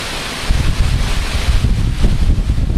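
Strong Hurricane Irene wind roars loudly and steadily, buffeting the microphone with a rough, low rumble that never lets up.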